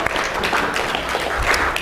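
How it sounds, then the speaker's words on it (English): A crowd at a business expo strategy seminar applauds with steady, dense clapping throughout, moderately loud and continuous. "Can we give these people a round of applause?"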